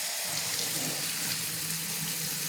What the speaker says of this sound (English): So let me put the blueberries in here, and I'm going to run some water over it.